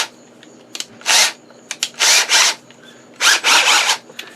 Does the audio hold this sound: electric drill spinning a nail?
yes